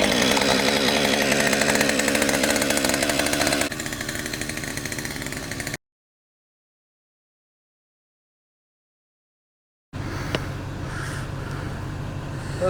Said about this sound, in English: That's why you carry a chainsaw.